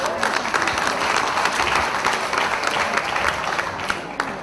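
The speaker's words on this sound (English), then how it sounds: "We need another round of applause." Audience applause at an official opening ceremony, dense and steady clapping from a large crowd filling the space at moderate loudness, with a voice faintly mixed in.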